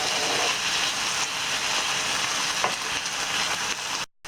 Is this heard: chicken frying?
yes